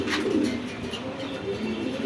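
Pigeons coo softly and continuously inside a pigeon farm, low murmuring calls overlapping at close range against faint background noise.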